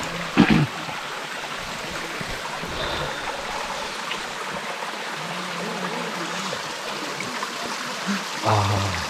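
Mountain stream water rushes and gurgles steadily over rocks on the Kumara Parvata trek, a continuous close wash with a few brief knocks and splashes near the start and end.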